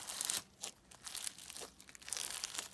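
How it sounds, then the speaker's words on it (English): Crunchy lemon slime is squeezed by hand, giving soft crackling, crinkling bursts in quick irregular clusters, close and quiet. "crunch sound is so satisfying"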